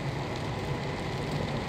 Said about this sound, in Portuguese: A chuva, como vocês estão vendo, não para, não para.